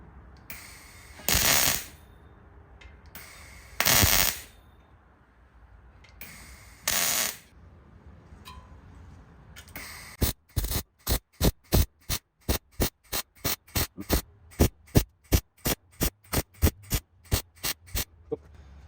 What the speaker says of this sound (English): Let's weld him into place.